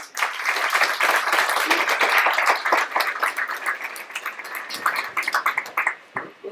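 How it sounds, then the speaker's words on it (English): Audience applause welcoming speaker Marco Colombo onto the stage at a VR game development session, a dense, steady wash of many hands clapping that carries on for several seconds before thinning out near the end. "let's give a round of applause to Marco Colombo"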